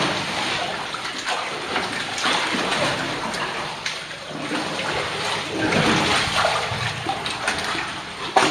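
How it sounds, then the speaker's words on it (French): Steady splashing and sloshing of water as cavers wade through a low, cold passage in the Ravière cave at Saules, continuous and close throughout with no talk. "Alors, on va prendre l'eau là avec Daniel."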